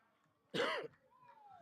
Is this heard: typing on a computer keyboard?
no